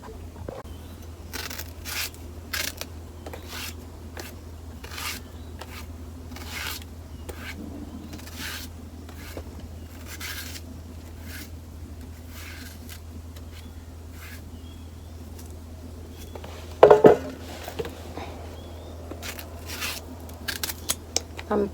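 Green bananas (matooke) are peeled by hand in an outdoor village setting in western Uganda, with repeated short scraping, rasping strokes at an irregular rhythm over a low steady hum, plus a louder rustling burst midway.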